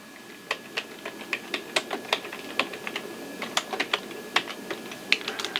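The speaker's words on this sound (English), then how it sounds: "Am I typing this correctly?" Quick, uneven keystrokes tap on a computer keyboard nearby, a burst of fairly light clicks entering a street address, with no talking.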